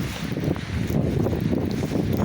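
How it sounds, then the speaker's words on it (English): Strong blizzard wind in southwest Washington roars steadily into the microphone, a dense low rumble that surges in gusts throughout, with no clear voices. "Big gust of wind there."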